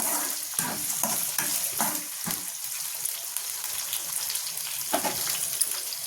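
Stir-frying in a pan with beans and curry leaves: a steady broadband sizzle with repeated scraping strokes of a spatula, close and fairly loud, and no talking.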